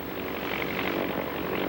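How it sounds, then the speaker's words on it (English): Propeller planes flying in formation at air races, circling in a long follow-the-leader line, drone with a continuous engine hum, moderately loud and steady, their overlapping whirring blended into one sustained sound. "as these planes circle and zoom in that long line"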